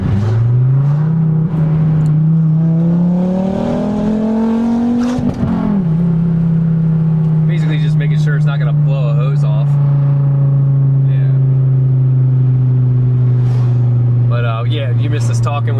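A Volvo V70R on a test drive after a front-mount intercooler install, engine droning loudly and rising in pitch as it accelerates, then a shift and steady cruising, with people talking throughout.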